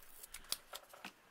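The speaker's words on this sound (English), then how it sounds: "Now I'm just going to take a small piece of foam and those scissors." Scissors snip a small piece of foam for a handmade Mother's Day card, a handful of short, crisp cuts close by at a quiet level.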